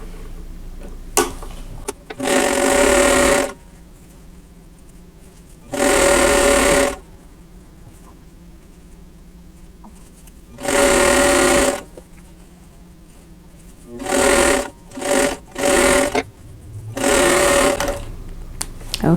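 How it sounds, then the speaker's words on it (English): A sewing machine stitches quilt block pieces together for a folded star block, running in steady whirring bursts of one to two seconds, with short pauses and soft fabric handling between them. "I'm going to nest the seam, the diagonal seam down there, and then sew these all together"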